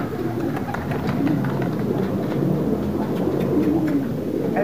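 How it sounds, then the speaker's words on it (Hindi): A flock of pigeons coos close by as they are released to fly, with soft wing flutters over a low, rumbling background. "शबीर भाई ने उड़ा दिए कबूतर, देख सकते हैं।"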